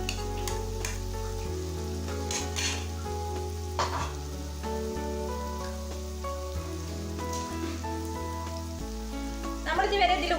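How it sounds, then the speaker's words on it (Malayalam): Chopped bitter gourd fries in hot oil with masala for a Kerala curry, a continuous close sizzle with light crackling and a sustained low hum, and stirring scrapes growing busier near the end. "ഇനി നമുക്കിതിലേക്ക് അരിഞ്ഞു വെച്ചിട്ടുള്ള കൈപ്പക്ക ചേർത്ത് കൊടുക്കാം."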